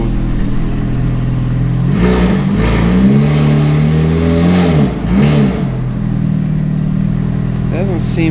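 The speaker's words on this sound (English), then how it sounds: "it's definitely not revving correctly." A faulty Ferrari engine revving unevenly up close, with uneven surging rises and drops in pitch and a rough idle between, while someone speaks over it.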